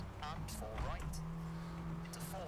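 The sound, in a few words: rally car engine and tires in EA WRC video game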